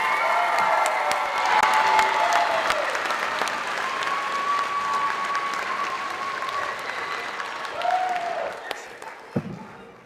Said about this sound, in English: Can you please clap it out for our beginning band